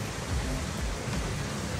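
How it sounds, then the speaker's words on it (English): Steady rain falls on a trail as a thunderstorm rolls in, a continuous broadband wash with low rumbling underneath, loud and even throughout with no distinct thunder crack. "Started raining, and the thundering is getting more consistent."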